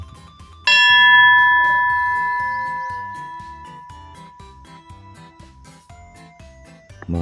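A single clear strike of a bell at a lovers' sanctuary viewpoint overlooking the Hamanoura terraced rice fields in Saga, ringing out loud and bright, then decaying slowly over several seconds amid light outdoor background sound.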